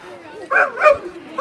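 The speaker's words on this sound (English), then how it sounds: "We've got some doggy friends here." Dogs at an open house beside a wooden boat under construction give a couple of short yips and barks, loud and close, over a busy room with people talking nearby.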